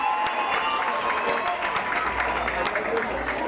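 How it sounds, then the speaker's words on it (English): Steady applause from a home crowd at a women's rugby match, dense clapping filling the space with a broad, continuous wash of sound. "off the park to the applause of the home fans"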